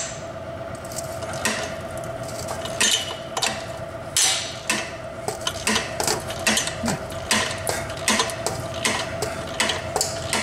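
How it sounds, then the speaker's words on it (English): A hand ratchet turns a transfer case bolt on a Traverse, Acadia or Enclave, giving close, sharp clicks that settle into a steady repeating rhythm over a constant hum, with no one speaking. "I'm hoping that my ratchet will work for this one."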